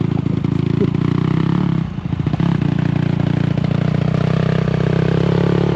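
A learner rider lets out the clutch as the motorcycle engine hums steadily up close, dipping briefly in the middle before settling back to a constant running note.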